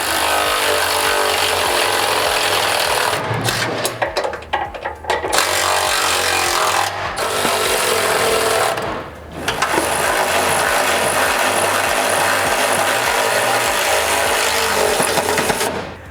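A power tool whirs in long bursts with brief pauses while bolts are tightened on rock sliders being fitted to a Ford Ranger, loud and close.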